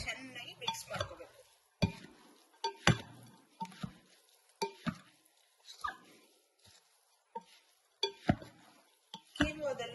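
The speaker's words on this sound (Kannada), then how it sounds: "ಇದೆಲ್ಲ ಇಂಗ್ರೀಡಿಯೆಂಟ್ ಹಾಕಿ ಚೆನ್ನಾಗಿ ಮಿಕ್ಸ್ ಮಾಡ್ಕೋಬೇಕು." Quinoa salad with cucumber, bell pepper and crushed pepper being stirred in a bowl, giving a series of close, irregular scraping and clinking strokes separated by short pauses.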